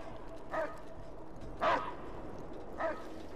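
A dog in the Mad Max video game gives three short, separate barks spaced about a second apart, each faint and somewhat distant over a steady low background.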